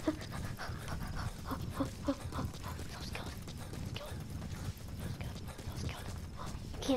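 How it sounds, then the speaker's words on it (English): A dog pants rapidly and steadily close by, a continuous rhythmic huffing that runs the whole time with small scrabbling noises mixed in. "Dog, be quiet."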